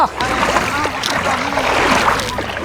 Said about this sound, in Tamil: பரபரப்பாக வலை இழுத்துட்டு இருக்காரு